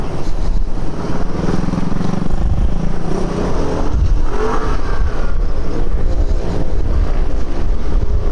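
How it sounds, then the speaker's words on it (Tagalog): Heavy road traffic on a morning ride to work: a dense, steady wash of car and motorcycle engines close by, with wind buffeting the microphone throughout. "Grabe traffic."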